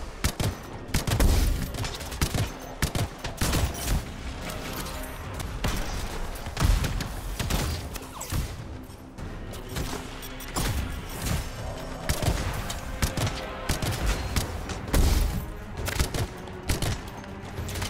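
Rapid volleys of heavy pistol fire in the game Anthem, loud punchy shots recurring in dense bursts with booms and thuds in a chaotic combat mix.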